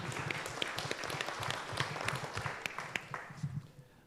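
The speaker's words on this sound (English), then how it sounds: "a round of applause for them" Applause for presenters at an international forage conservation symposium, a dense patter of many hands clapping steadily throughout, moderately loud, tapering slightly at the end.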